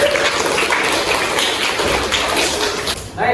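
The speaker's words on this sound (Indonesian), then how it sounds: "berikan aplaus untuk Rizky Amelia" A classroom applauding a student after a physics lesson, dense, loud, continuous clapping from many hands that fades out abruptly at the end.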